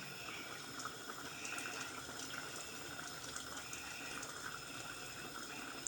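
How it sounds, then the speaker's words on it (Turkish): Water is poured into a cooking pot of Turkish yığın dibi stew with onions, a steady close splashing and trickling that runs on with no one speaking. "Su az geldi. Biraz daha su vereceğim."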